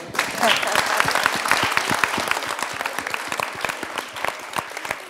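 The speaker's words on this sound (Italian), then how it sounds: "facciamo un applauso" A classroom audience at a primary school event bursts into dense, continuous applause, loud and close, with many overlapping claps and some voices mixed in.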